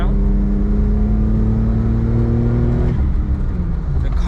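A Suzuki Jimny engine pulls hard at full throttle, a loud steady drone with rising harmonics that shifts and settles near the end, heard close from inside the car.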